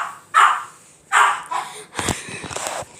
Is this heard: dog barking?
yes